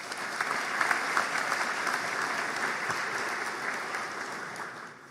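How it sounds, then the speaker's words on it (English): Sustained applause from a large crowd for the graduating class at a spring graduation ceremony, steady and loud throughout without a break. "Please give yourself another round of applause."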